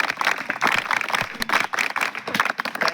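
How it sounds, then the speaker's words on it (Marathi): An audience at a school event applauds, a burst of dense, fairly loud clapping from many hands that stays full throughout. "त्या प्रतिमा मॅडमसाठी टाळ्या वाजवा जोरदार."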